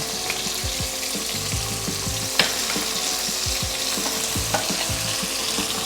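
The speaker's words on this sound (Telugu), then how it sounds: "ఆనియన్స్ వేసి మంచిగా తిప్పుకొని" Onions being stir-fried in hot oil in a pan, a steady broadband sizzle with occasional scrapes and clinks of a spoon, continuous and fairly loud with no talking.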